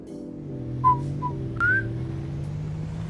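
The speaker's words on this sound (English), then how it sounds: "My whistling." A person whistles a few short tones over steady low engine drone inside a car during a nighttime food delivery drive in Norway; brief whistled notes near the start and middle, fairly faint.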